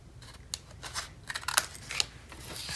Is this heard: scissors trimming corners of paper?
yes